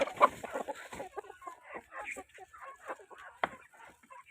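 Farm chickens clucking while being fed leftover rice, with several short clucks and squawks scattered close by and a person talking quietly alongside.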